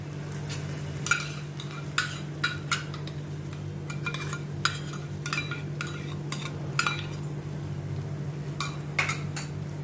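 A spoon scrapes and clinks irregularly against a pan while tomato puree is stirred into softened onions, over a steady low sizzle, with no talking.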